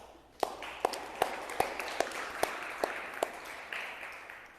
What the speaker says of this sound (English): So welcome, round of applause.